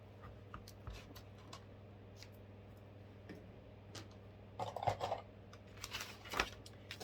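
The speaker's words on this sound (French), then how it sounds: "Alors, le scotch." Adhesive tape is handled while assembling a scrapbook album: quiet ticks and scratches, then a short burst of tape crackling and pulling near five seconds and another brief rustle later, close and soft with no talking.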